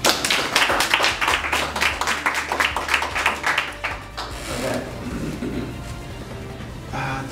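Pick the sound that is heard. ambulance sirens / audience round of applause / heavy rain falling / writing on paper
audience round of applause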